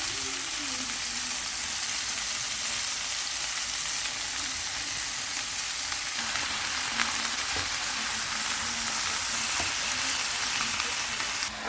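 Garlic, tomato and jalapeno pepper fry in a pan with a steady, dense sizzle that runs through the whole stretch, plus occasional soft stirring clicks, and no voices.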